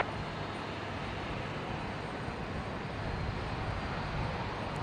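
A Virgin Australia airliner, flight Velocity 957 from Sydney, arriving at Brisbane Airport, heard as a steady, broad engine roar that holds even and moderately loud throughout, with no voices over it.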